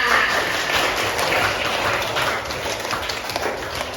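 Schoolchildren in a classroom applaud together, a brisk, dense patter of many small hands clapping steadily for several seconds at moderate loudness, with no speech over it.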